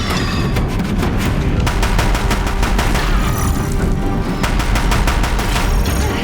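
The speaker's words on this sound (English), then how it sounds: "If the Deathbringers keep firing, this bridge will go." Gunfire from Deathbringers pounds a bridge in a video game battle, with loud, dense volleys of rapid shots and deep booms that continue throughout under a constant roar.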